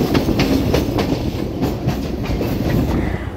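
A crowded local train runs on the rails into Chennai, its carriage rumbling steadily with rhythmic clickety-clack wheel beats heard from inside, fairly loud, with no talk.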